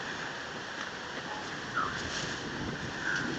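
Steady wind buffets the microphone outdoors during a windy month, a constant broadband rush with a couple of slightly stronger gusts and no clear talk.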